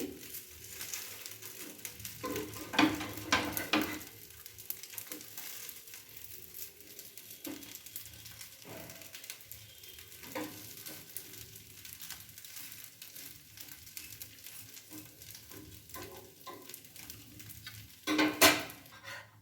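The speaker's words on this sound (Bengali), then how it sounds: "দেখুন এইভাবে দুদিন উল্টে উল্টে ভেজে নিচ্ছি" A semolina breakfast fries in a pan: a soft, steady sizzle broken by several short scraping and clattering bursts as the pieces are turned over. No one speaks.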